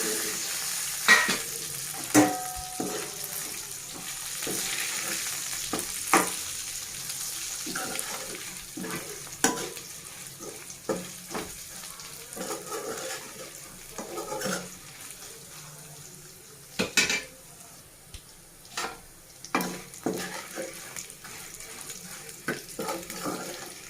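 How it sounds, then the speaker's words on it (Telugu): Fried white brinjal in a pan with ginger-garlic paste being stirred, repeated scraping strokes and spoon knocks over a low sizzle, moderately close and continuing for a long stretch. "ఇలా కలుపుతూ ఉండాలండి, లేకపోతే కింద మాడిపోతుంది కదా."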